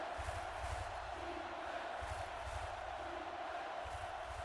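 A home-team crowd at a football game roars in a faint, distant, continuous swell, with rhythmic pulses of chanting rising and falling.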